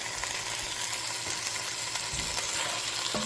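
Rinsed white beans are added and stirred into a pot of vegan Tuscan soup. A steady sizzling hiss runs throughout, with small scraping and clinking stirring sounds close by.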